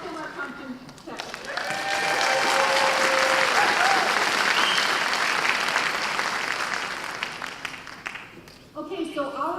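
A school staff audience at a professional development day general session breaks into sustained applause that swells for several seconds, fills the room, then tapers off before a voice resumes.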